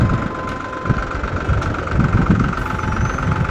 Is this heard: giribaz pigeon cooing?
no